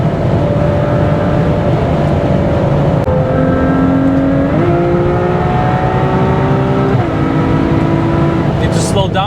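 A Ferrari 812 Superfast runs at very high speed on the Autobahn, its engine whine shifting through rising tones and gear changes over a constant roar of wind and road noise, loud and close from inside the car.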